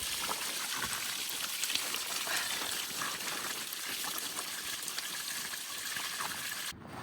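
Water gushes and pours steadily out of a drain outlet after it is pushed in, a continuous splashing rush that holds at the same level for several seconds before cutting off abruptly near the end.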